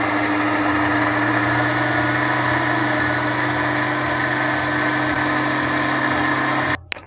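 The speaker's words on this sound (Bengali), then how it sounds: "আমরা ব্লেন্ড করে নিচ্ছি, যেভাবে ব্লেন্ড করে নেব আর ব্লেন্ড করতে দেব" An electric blender grinding spices with salt, a loud, steady motor whine running continuously before cutting off abruptly near the end.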